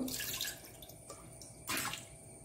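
Water poured into a pressure cooker while making Hayagreeva sweet, heard as a few short splashing, gurgling bursts with brief pauses between them.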